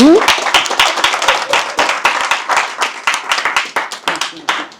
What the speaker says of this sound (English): Clap for them, guys